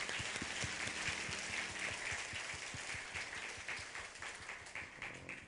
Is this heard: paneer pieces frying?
no